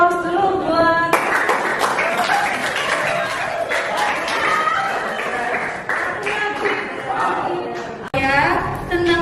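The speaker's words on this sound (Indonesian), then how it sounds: "Beri aplaus dulu buat" An audience at an Indonesian school lesson gives a long, steady round of clapping, fairly near, with voices and laughter mixed in and a brief pause near the end.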